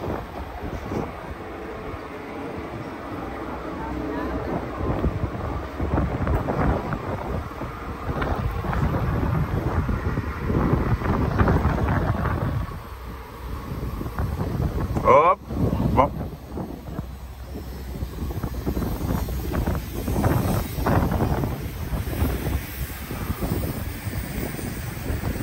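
Strong wind gusts roar into the microphone at a beach in Balneário Camboriú, a steady rumbling buffet with voices speaking faintly underneath.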